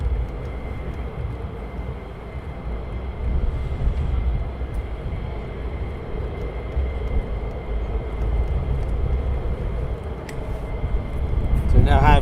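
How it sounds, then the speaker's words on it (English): An F-15 fighter jet comes in to land at RAF Lakenheath, its engines a distant, steady low roar and rumble that swells slightly toward the end, with a voice talking over it. "So we now have the F-15 wingman coming in, and then the two F-35s over the top."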